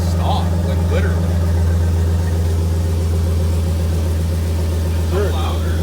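A stock-sounding truck engine idles steadily with a deep, constant rumble and a slightly rich running note, close and loud throughout, while people talk faintly over it.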